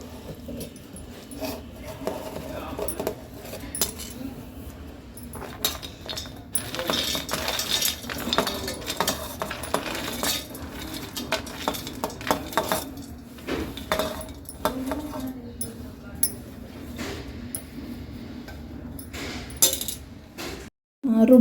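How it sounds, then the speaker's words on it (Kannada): Chopped onion and curry leaves tip into a mixer jar with light clinks and rattles of utensils against the jar. Kitchen clatter runs under steady talk and ends in a brief louder knock. "ಈಗ ಇದನ್ನು ಜಾರಿಗೆ ಹಾಕ್ಕೊಂಡು ರುಬ್ಬೋಣ. ನೋಡಿ, ಜಾರಿಗೆ ಹಾಕ್ಕೊಳ್ತಾ ಇದ್ದೀನಲ್ಲ ಅದನ್ನು."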